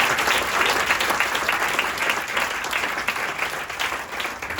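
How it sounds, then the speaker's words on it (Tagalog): A church congregation at UPC-Muntinlupa breaks into loud, sustained applause, a thick wash of many hands clapping at once that holds steady and eases only slightly toward the end. "Malakas na palakpak para sa ating Panginoon"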